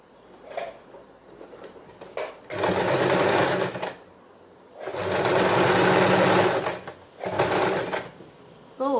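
Stitching along the edge of cloth for a duster, a sewing machine whirs in three loud, close runs of a couple of seconds each, separated by quieter handling pauses.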